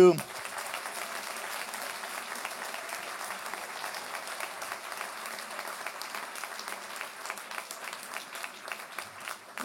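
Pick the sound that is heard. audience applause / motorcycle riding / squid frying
audience applause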